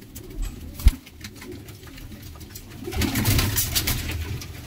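Pigeons coo in a loft, soft repeated throaty calls rising and falling, with a sharp knock near the start and a louder stretch of cooing toward the end.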